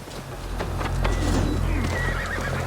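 Horses neigh and whinny amid clip-clopping hooves in Assassin's Creed Valhalla during the Siege of Paris, a steady loud game soundscape with a low rumbling bed underneath and no talk.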